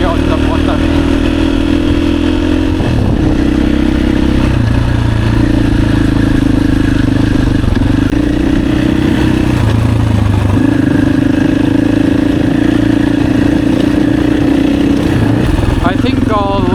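A new motorcycle's engine runs steadily up close, a loud continuous low rumble with slight shifts in pitch as it idles and revs, while someone talks over it throughout.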